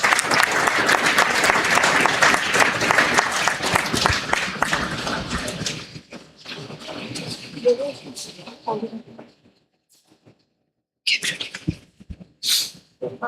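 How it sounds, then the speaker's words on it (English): Sustained applause from a conference audience at an international event, loud and dense for about six seconds before thinning into scattered claps and fading, with a few isolated noises after a brief quiet. "Please welcome me with a huge round of applause"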